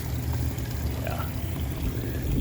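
Water runs and trickles steadily in a fountain at a garden nursery in Orange, California, on a warm summer day, a continuous close splashing wash with no voices.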